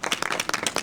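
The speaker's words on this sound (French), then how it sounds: "On peut les applaudir très très fort." Crowd applause at an off-road four-wheel-drive event, a brief burst of many hands clapping in quick irregular bursts, close and fairly loud.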